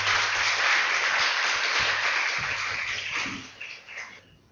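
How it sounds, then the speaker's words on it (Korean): Audience applause opening a Korean-language debate on imperialism, dense and loud clapping from a crowd that holds steady, then thins and tapers off near the end. "그러면 여러분 큰 박수로 이번 토론을 시작하도록 하겠습니다."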